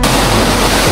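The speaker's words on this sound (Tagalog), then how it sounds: "Lakas ng alon." Loud, steady roar of heavy surf crashing on a beach in Zambales, a dense wash of noise filling the whole moment with no voices.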